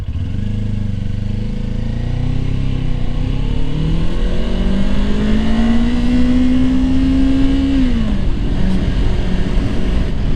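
A Kawasaki Ninja 400 motorcycle engine drones steadily while riding, pitch climbing smoothly as it revs up through a gear, then dropping sharply near the end; loud, close and constant with wind rush.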